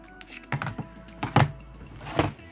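Bursts of clacking keystrokes on a computer keyboard, a few irregular clusters of taps close to the microphone with no talking.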